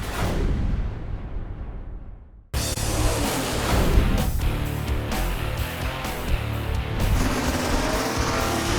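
Race cars at the Pinks All-Out 4 drag racing finals at Summit Motorsports Park, a fading engine roar cut off by a sudden, dense, loud wall of revving and thundering exhaust that carries on unbroken.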